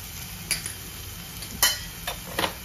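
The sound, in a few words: dry spices sautéing in oil for jackfruit biryani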